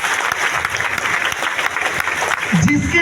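An audience at a large event in Latehar, Jharkhand claps steadily, a dense, loud wash of applause throughout, with a brief voice rising near the end.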